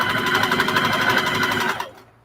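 A sewing machine runs steadily and close by, stitching a seam along a towel for a burp cloth, its fast even motor whir and needle chatter continuing for almost two seconds before cutting off into near silence.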